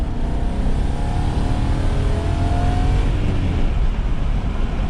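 A BMW E60 M5 pulls away in a loud, continuous engine roar whose pitch climbs steadily as it accelerates, heard from inside the car.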